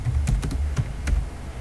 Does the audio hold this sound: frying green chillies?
no